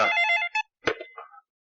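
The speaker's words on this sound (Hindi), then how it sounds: "ये बेवकूफ का फोन आ गया।" Telephone ringing in a Hindi film scene, a bright electronic ring with a sustained first burst, then a short second burst and a brief trailing chirp, heard clearly with no voices over it.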